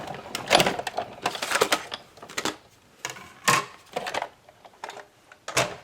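A die cutting machine is cranked through by hand while making a 3D tunnel card, giving a series of close, uneven mechanical rattles and clunks in bursts with short pauses between them.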